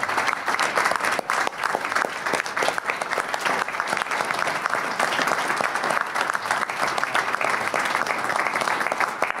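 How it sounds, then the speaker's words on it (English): Audience applause at a board of trustees spring quarterly meeting, a sustained, dense round of clapping filling the whole stretch at moderate distance. "Let's give him a round of applause for his time."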